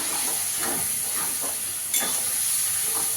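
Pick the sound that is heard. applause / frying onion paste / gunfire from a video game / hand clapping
frying onion paste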